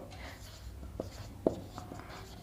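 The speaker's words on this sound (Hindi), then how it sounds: "तो हम लिखेंगे यहां पर" Pen or chalk scratches out a maths equation on a writing surface, with a series of short strokes and taps close by under light room noise.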